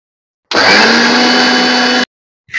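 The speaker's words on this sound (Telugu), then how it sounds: "ఇవి వేసి మెత్తగా గ్రైండ్ పట్టాలి" A kitchen mixer grinder whirs loudly and steadily for about a second and a half as it grinds onion and tomato into a paste, stopping abruptly before a brief second pulse starts.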